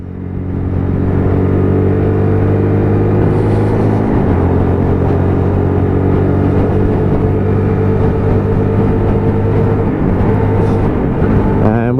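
Steady, loud engine drone from a UM motorcycle climbing a hill on a road behind a delivery van, holding a constant low hum with slight pitch shifts, continuous throughout.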